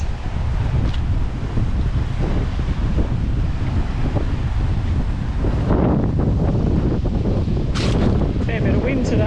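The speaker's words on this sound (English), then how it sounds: "Fair bit of wind today, but at least it's starting to clear a bit" Strong wind buffets the microphone at a beach at Carmila or Blacks Beach near Mackay, a steady loud rumble throughout, with surf faintly beneath it.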